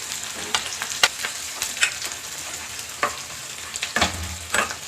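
Garlic, onion and cumin frying in hot oil, giving a continuous close sizzle broken by frequent scraping clicks of a stirring utensil against the pan, with no voices.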